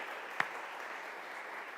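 A church congregation applauds in a steady, fairly faint wash of clapping with one sharper clap standing out near the start.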